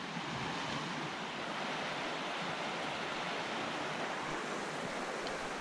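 The Lyne Water, a river on the Pentland Way hiking route, rushes in a steady, broad hiss of flowing water that stays constant throughout, fairly quiet and with no talking.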